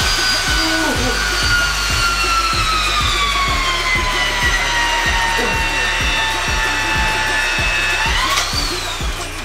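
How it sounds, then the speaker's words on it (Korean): A shear wrench tightens TS bolts on an H-beam during steel reinforcement of a two-story brick building. It gives a loud, steady motor whine with rapid rhythmic pulsing underneath, and the pitch slowly falls before briefly rising near the end. "TS 볼트를 샤렌치로 돌려서 튼튼하게 고정을 시켜줍니다"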